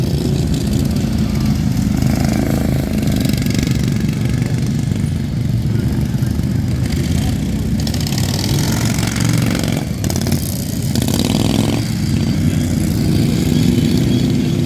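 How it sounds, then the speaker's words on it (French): A small recoil-start engine runs with a steady throbbing drone close by, its note briefly dipping and rising a couple of times. "avec un moteur comme ça. Avec un recoil starter"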